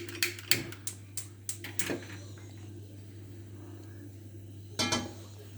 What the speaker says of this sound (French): On va mettre notre cocotte à chauffer, une cocotte en fonte, avec 3 cuillères à soupe d'huile d'olive.